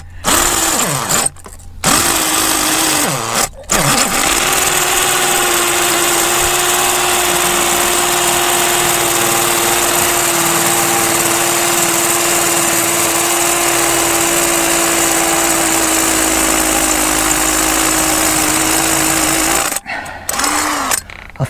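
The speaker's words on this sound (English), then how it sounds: "This is a pro drill" A professional power drill bores steadily for a long stretch, loud and close with a constant whine, with brief stops near the start and again at the end.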